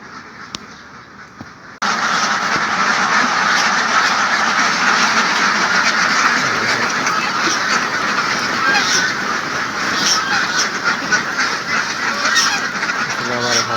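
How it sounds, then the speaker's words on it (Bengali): A large flock of farm ducks, just fed, bursts into loud, dense quacking and honking after a brief quiet start. The close chorus keeps going without a break, with faint background noise underneath. "কিছুক্ষণের ভিতরে আমরা হাঁস ছেড়ে দিব আপনারা দেখতে পারবেন"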